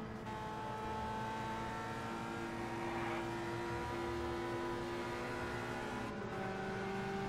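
Race car engines from the 1965 Indianapolis 500 recreated in the Indianapolis 500 Evolution video game, a steady loud drone of overlapping engine tones with another car closing in from behind and passing, continuous throughout with no speech.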